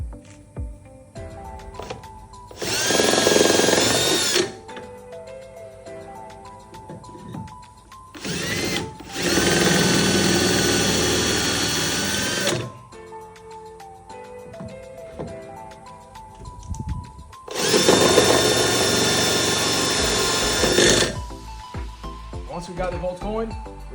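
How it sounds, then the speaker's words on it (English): Three bursts of a high-pitched power drill whirring as it drills pilot holes for a jack plate on a Gheenoe boat, each lasting a few seconds, separated by quieter stretches with faint clatter and movement. "So we're just gonna drill 2 pilot holes."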